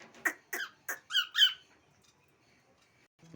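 Conure parrots at feeding time give five sharp, loud squawks in quick succession, then fall quiet. Another short sound follows near the end.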